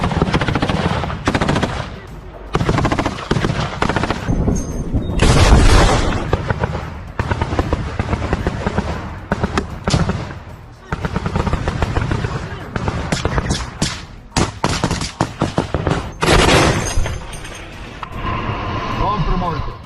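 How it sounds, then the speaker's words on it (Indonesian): Soldiers in combat fire bursts of automatic gunfire and scattered single shots, loud and close, under shouting voices and a broadcast voice. "peluru mereka terbang ke segala arah, membuat tentara Rusia kewalahan"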